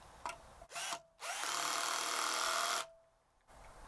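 A Niteo 12V cordless drill from Biedronka drives a screw with its clutch set to 17: a short whirring burst, then a sustained loud, close motor whine for about two seconds before it stops.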